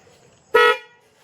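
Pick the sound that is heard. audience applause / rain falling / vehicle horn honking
vehicle horn honking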